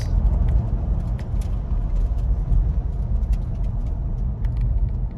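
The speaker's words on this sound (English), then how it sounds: "And now we'll take it on a quick test drive." A 2012 Nissan Xterra, two-wheel drive, on a test drive: steady low road rumble and engine drone from inside the moving vehicle, continuous and fairly loud with no talk.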